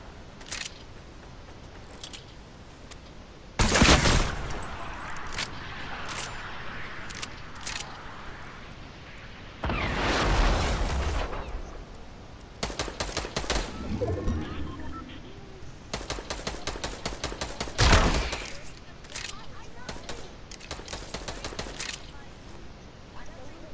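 Gunfire in Fortnite comes as loud bursts of rapid automatic fire with scattered single shots between them, spread across the stretch, while a voice talks intermittently underneath.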